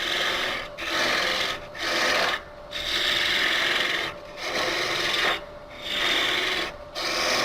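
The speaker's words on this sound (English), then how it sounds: "And go ahead and just use my roughing gouge." Roughing gouge cutting a wood blank spinning on a lathe, a close rasping, scraping hiss broken by several short pauses as the tool lifts off and goes back in.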